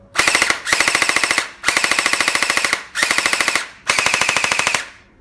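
A Bing Feng MK18 gel blaster fires on full auto in five loud, close bursts of rapid, evenly spaced shots, with short gaps between bursts. No talking is heard.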